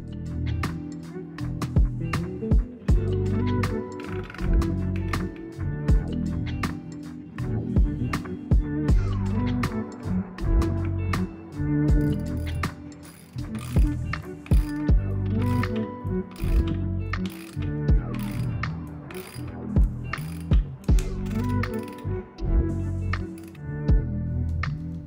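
A hand ratchet drives a lag bolt into the wood of a piano harp, giving a continuous run of close, rhythmic clicking and ratcheting with metallic clinks, steady and without talk.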